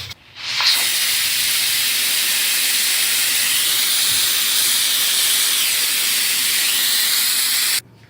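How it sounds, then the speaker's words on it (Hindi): A pressure cooker holding aloo matar chicken salan lets off its pressure in a loud, steady hiss that starts suddenly, holds for about seven seconds and then cuts off sharply, close by. "अब मैं इसका प्रेशर उठा लूँगी।"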